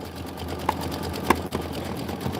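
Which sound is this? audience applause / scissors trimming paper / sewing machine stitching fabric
sewing machine stitching fabric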